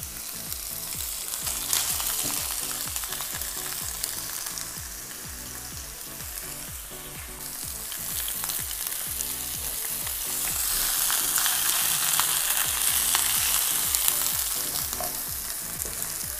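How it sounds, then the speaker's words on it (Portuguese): Sous vide lamb shoulder sears in a hot frying pan, giving a loud, continuous close sizzle and crackle of fat that swells and eases with occasional stirring and scraping, and no voices. "Aqui a gente está finalizando o nosso cordeiro na frigideira"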